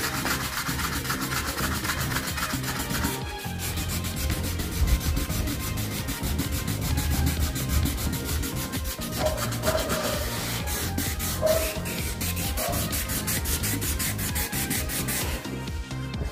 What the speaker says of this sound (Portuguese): Então, você dobra a lixa